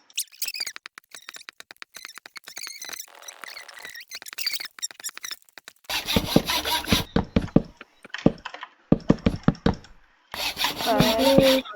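Wood being collected in a Polish-played block-building video game, heard as repeated short scraping, rasping chops in bursts and pauses, loud and close, with no talk over it.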